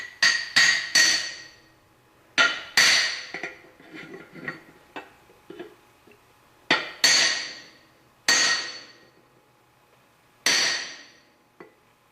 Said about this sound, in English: I could actually get in on the inside of the case and tap it in like that